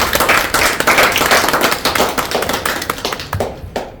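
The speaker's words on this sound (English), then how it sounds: "So I would like us to applaud for ourselves that we are in this club for so long." Club members at a Toastmasters meeting applaud together, a dense run of hand claps filling several seconds at close range before thinning out into a few scattered claps at the end.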